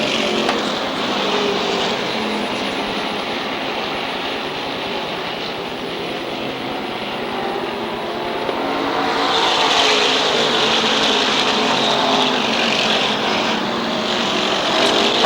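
SK modified race cars roar around the Waterford Speedbowl oval, a loud continuous blare of many engines as the pack passes close, swelling louder partway through with no one speaking.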